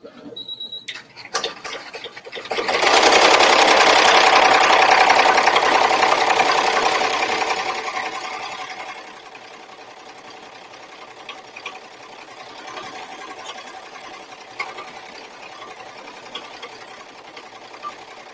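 An embroidery machine stitches a border at a 750 stitch rate, a loud rapid mechanical whir that fades after several seconds into quieter ticking and clicking.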